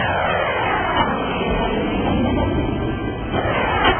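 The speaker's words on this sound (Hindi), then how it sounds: "स्वदेशी लड़ाकू विमान तेजस" A Tejas indigenous fighter jet's engine gives a loud, steady, broad roar that holds constant throughout without a break.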